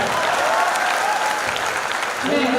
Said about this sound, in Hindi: ताली बजाओ तो जोरदार बढ़िया लगी हो।